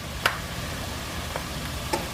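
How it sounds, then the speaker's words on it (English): Stuffed pepper filling sprinkled with garlic powder fries in a pan over medium-high heat, a steady soft sizzle broken by a few faint, light ticks. "So now you want to let this fry up."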